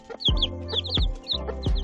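A hen and chicks cluck in quick, repeated bursts close by, with high chirpy peeps mixed in, loud and without any talking.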